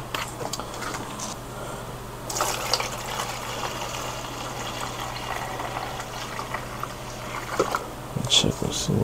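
Disinfectant liquid poured into a Babyliss disinfectant box, a steady watery trickle and splash under a low constant hum, with a few louder splashes near the end.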